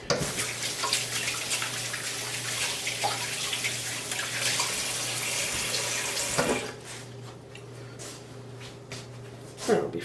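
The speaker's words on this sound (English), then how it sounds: "Wash my hands." Tap water runs steadily under hand washing at a kitchen sink while a pork roast is prepared, a loud rushing stream for about six seconds before it cuts off, leaving quieter room sounds and a brief clatter at the end.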